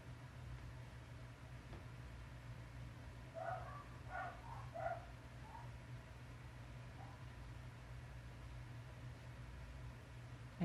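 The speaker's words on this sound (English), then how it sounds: "Sounds like a dog scrabbling fight happening." Neighbors' dogs barking and scrabbling in the background, a short cluster of faint, distant yips and barks in the middle of the clip over a steady low hum.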